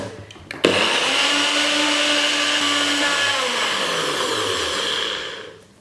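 A NutriBullet blender blitzing a ginger shot smoothie, starting with a sharp click and then running as a loud, steady high whine that winds down toward the end, with no talking.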